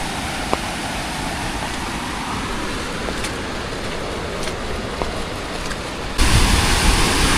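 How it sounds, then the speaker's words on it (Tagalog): Strong rushing rainwater floods past after a typhoon, a continuous loud roaring wash that swells louder near the end. "Ang lakas ng tubig"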